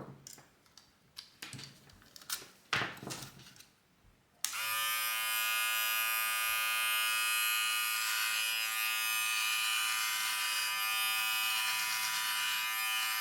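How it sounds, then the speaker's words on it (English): A Silvercrest electric hair and beard trimmer with adjustable comb switches on after a few seconds of handling clicks and then runs steadily, a close, bright, even motor buzz that holds without change to the end. "you can use it for cutting your hair, beard trimmer or for body trimmer"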